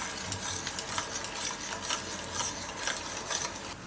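Mint syrup (pudina sharbat) simmering in a pan on a high gas flame while being stirred, a soft steady bubbling hiss with rhythmic scraping strokes every half second, close and fairly quiet.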